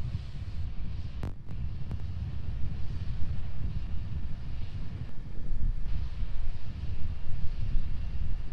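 Steady, broad rumble of a Starship prototype's Raptor engine during the SN8/SN9 high-altitude test flight, heard from far away as a continuous distant roar with wind buffeting the microphone and no talking.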